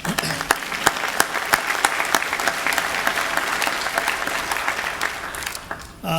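An audience at a high school convocation applauds steadily for scholar-athlete award recipients, a dense, continuous patter of many hands clapping at moderate distance that fades out near the end.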